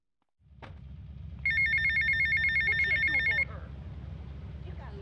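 A telephone rings in GTA Vice City, a bright warbling electronic trill lasting about two seconds over a steady low engine-like drone, then cutting off while the drone continues.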